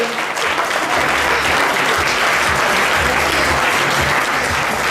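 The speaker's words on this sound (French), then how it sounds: "On peut applaudir encore Guillaume Andreu" Dense, continuous clapping from an audience after a talk, loud and even from start to finish with no pauses.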